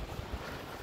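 Low, rumbling buffeting of wind blowing straight into the microphone during a storm surge on the Baltic Sea coast, a brief steady roar with a few thumping gusts.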